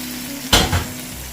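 Spice masala hits a hot pan with a splash of a little water, giving one sudden loud sizzling burst that quickly fades into a softer, steady hiss, heard close and without speech.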